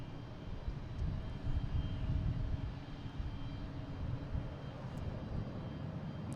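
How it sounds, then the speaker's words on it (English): JetBlue Airbus A320 taking off at Boston Logan airport, a steady broad jet roar that rumbles continuously and fairly loud throughout, with no talk. "next taking off is a JetBlue heading to Wilmington. An A320"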